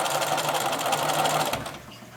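A sewing machine stitches a seam down the side of a lined bag made from recycled denim jeans, running in a steady close whir that slows and stops after a couple of seconds.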